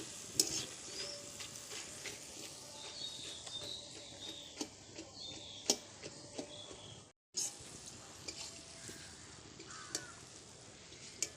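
Bonde frying in a little oil, with a quiet steady sizzle and frequent light taps and clicks of a ladle against the pan, and a brief dropout partway through.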